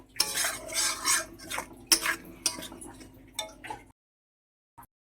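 Spice paste for a prawn and taro curry being stir-fried in a pan, with close, irregular scraping and clattering strokes of a spatula and a faint sizzle, then abrupt silence.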